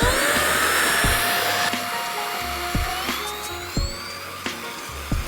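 A WLUPEL Hero 8 Pro cordless vacuum cleaner with a replaceable battery runs steadily with a loud high motor whine and hiss, broken by a few thumps and clicks as it is handled.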